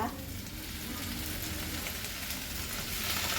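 Cabbage with a little added water sizzles steadily in a pan, a dense close frying hiss that holds even and unbroken throughout, with no voices.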